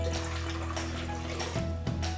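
Warm water pours steadily into a sourdough mix in a kitchen, a continuous close splashing stream with a faint humming tone underneath.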